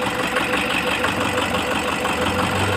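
A Toyota HiAce with a 2KD diesel engine idles with a knocking and misfire fault, giving a steady, continuous close-up engine drone with no talking.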